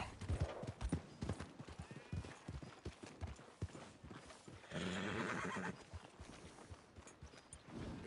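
A horse whinnies and its hooves clip-clop around it, a loud, clear neigh in the middle over irregular hoof steps close by.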